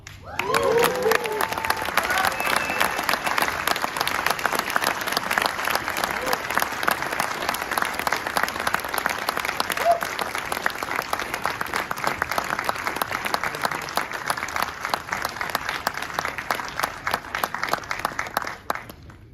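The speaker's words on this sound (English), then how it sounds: "Let's give them one more round of applause." An audience at a military pilot training graduation ceremony applauds an award presentation, a long, steady sheet of many hands clapping with scattered cheers, holding for nearly twenty seconds before tapering off.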